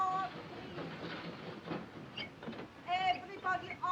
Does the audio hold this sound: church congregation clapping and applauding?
no